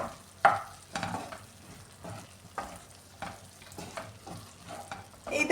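A Kerala-style prawn roast sizzles in a pan at a low, steady level while a spoon scrapes and stirs through it in repeated strokes, each stir bringing a small rise in the frying noise.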